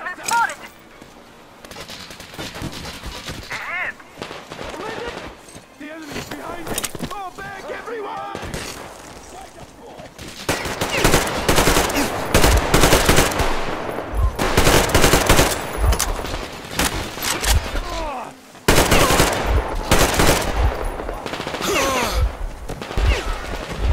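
Soldiers open fire in Metro Exodus, sparse shots at first swelling into dense, loud automatic bursts and rapid volleys that run on for many seconds, with voices shouting among them.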